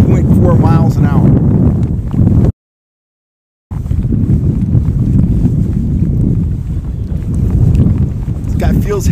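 Strong wind buffets a microphone on a boat trolling for trout, a loud continuous low rumble broken by a brief dropout, with no clear voices over it.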